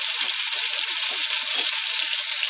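Garlic sizzles in hot oil with a loud, continuous, hissing crackle, close and steady throughout with no voices.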